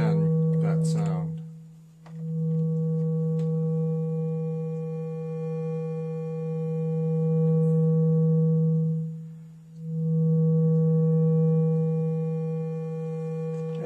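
Steady synthesizer tone with a strong low fundamental and bright harmonics, swelling and dipping as a cycling fade-in, fade-out envelope pans it, with two deep dips along the way. A voice is briefly heard at the very start.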